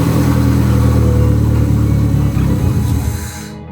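A Mazda MX-5 drift car engine starting and running loudly up close, a steady mechanical drone that fades out near the end.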